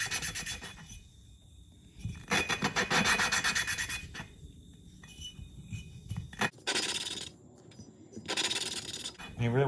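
A small engine valve being lapped against its seat gives a gritty, rhythmic rasping in repeated bursts of back-and-forth rubbing, close and fairly loud, with short pauses between strokes.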